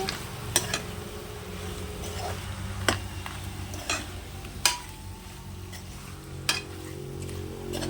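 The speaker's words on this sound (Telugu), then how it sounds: "కడాయిలో మంచిగా ఒకసారి తిప్పుకోండి ఈ మసాలా అంతా ముక్కలకి పట్టాలి" Goat head pieces being stirred with masala in a kadai, with soft scraping and a low background sizzle, punctuated by several sharp metallic clinks of the spoon against the pan.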